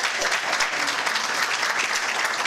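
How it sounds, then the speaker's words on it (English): Loud, dense applause from a room of guests at a volunteer appreciation dinner, a steady wash of many hands clapping without a break. "if we could just give a round of applause to Dr. Richard Woodruff."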